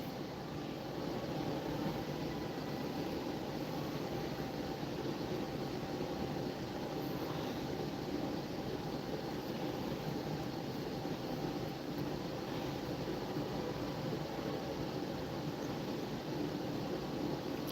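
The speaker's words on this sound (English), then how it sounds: "I'm honestly tempted to turn off my air conditioning because it's so loud." A steady, loud roar of an air conditioner, a constant broadband hum that fills the room without change.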